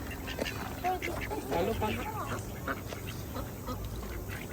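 Ducks quack in short bursts close by at a botanic garden, with people talking over them.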